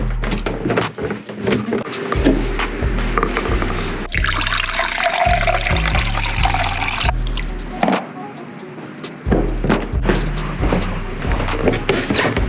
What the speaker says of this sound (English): So now I'm gonna get some water and go ahead and hop in the shower.